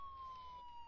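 An ambulance siren in the game Ambulance Doctor Simulator 3D plays as a faint, steady electronic tone that sinks slowly in pitch over a low background hum.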